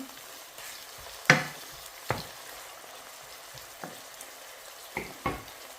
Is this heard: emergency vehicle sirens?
no